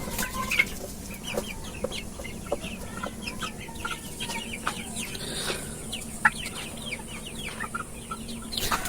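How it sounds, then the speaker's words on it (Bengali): Sonali chickens on a Bangladeshi poultry farm cluck and chirp constantly, many birds overlapping in quick, scattered calls over a low steady hum of the shed. "এই যে মুরগিগুলো দেখতে পাচ্ছেন, এইগুলো কিন্তু আমার বাজার থেকে ক্রয়কৃত না"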